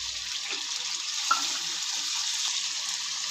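Onion paste, ginger-garlic paste and kasuri methi fry in a pan for chole, a steady bright sizzle with a brief clink partway through, no talk.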